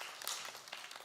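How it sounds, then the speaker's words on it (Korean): A congregation at a Sunday church service gives a brief burst of clapping. Many hands sound faintly and crisply together for about a second, with no talking over it. "우리 하나님께 박수 한번 합시다."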